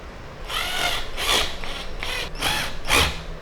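A power drill drives screws into wood blocking behind drywall while a recessed ceiling light is installed, whirring in about five short, loud bursts with brief pauses between.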